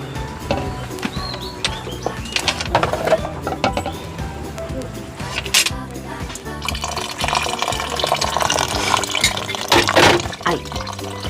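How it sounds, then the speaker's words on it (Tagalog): Water poured into a pot of biko, sticky rice cooking, with liquid sloshing and trickling amid clattering utensils and background noise, heard outdoors during rain. "Didagdagan na natin ng tubig."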